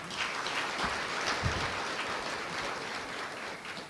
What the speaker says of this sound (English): If you did love it, can you please give me a hand,